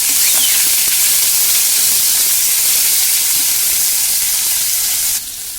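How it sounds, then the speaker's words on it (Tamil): Onion, tomato and ginger-garlic paste sautéing in a pan give off a loud, steady, steamy sizzle and hiss that runs unbroken and close, easing slightly at the very end. "அதோட வெங்காயம், தக்காளி, இஞ்சி பூண்டு பேஸ்ட்டு நல்லா வதங்கட்டும்."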